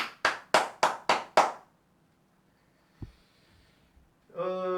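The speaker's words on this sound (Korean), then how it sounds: "박지현에게 박수를" Six sharp, close hand claps from one person in an even, deliberate rhythm, followed by near silence, a single faint knock and then a voice starting to speak.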